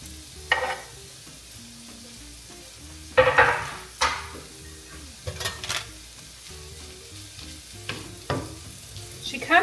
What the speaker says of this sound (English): We're going to go ahead and add that to the pan.